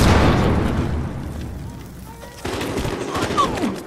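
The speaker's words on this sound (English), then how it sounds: "Look out, throwing a grenade!" A grenade blast and bursts of rapid gunfire ring out in a competitive first-person shooter match, loud and close at first, then tapering before a fresh burst of shots.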